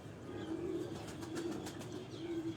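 Pigeon cooing in a loft of fancy flying pigeons, a low steady coo repeating in a few soft phrases over a faint background, with no talk.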